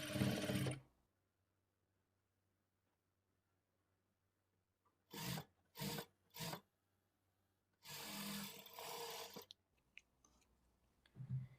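A sewing machine stitches lining blouse fabric in short, close bursts: an opening run, then three quick stitch spurts and a longer run after a quiet pause, with a faint hum between bursts.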